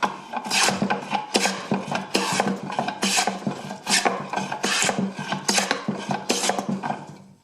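A hand plane fitted with a cambered iron takes thick shavings off a wooden board in a run of about ten loud, rasping strokes, each a rough scrape with a steady rhythm, heard close and alone with no talk.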